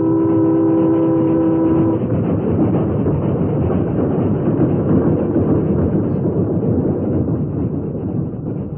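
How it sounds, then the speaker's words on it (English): A train rushes past in an old radio drama sound effect, a loud continuous roar and rumble of the rail cars with a brief whistle-like tone at the start, holding steady to the end. "Well, Dan, you saw the train pass as you wanted to, but you went through a lot before you did."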